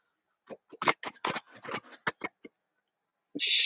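Tarot cards are shuffled by hand in a quick burst of crisp riffling taps and slaps close to the microphone, followed by a pause and a sharper rustle at the end.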